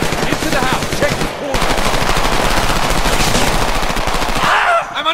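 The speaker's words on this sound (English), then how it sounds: "I'm under heavy fire!" Heavy machine-gun fire in the war shooter Homefront, loud, dense and continuous rapid bursts close by, with a short break partway through and shouting mixed in.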